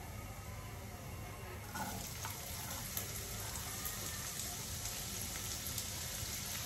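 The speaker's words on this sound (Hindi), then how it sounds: "उसके बाद डाल देंगे हम थोड़ा सा 1/2 स्पून करीब जीरा, और साथ में डालेंगे हम पहले ऑनियन" Onion, cumin and a pinch of asafoetida sizzle in a pan for a vegetable papad wrap, a dense, steady hiss of frying that grows a little louder partway through, with no voices.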